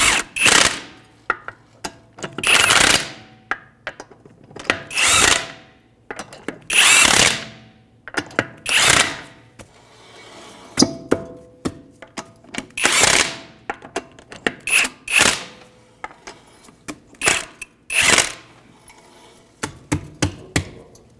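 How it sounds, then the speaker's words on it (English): A power tool with a 21mm socket runs down the wheel lug nuts on a 2015-2019 Hyundai Sonata, giving about ten loud, close, whirring bursts with short pauses between them and no talking. "With a 21mm socket, we'll go ahead and snug these up."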